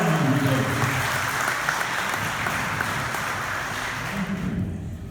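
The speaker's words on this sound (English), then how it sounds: "So give these nurses a great round of applause" Audience applause for nurses at a fundraiser dinner and auction: loud, dense clapping from a large crowd filling the room, sustained evenly throughout and tapering only at the very end.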